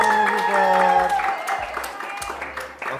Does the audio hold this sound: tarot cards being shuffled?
no